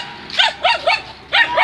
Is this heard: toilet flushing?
no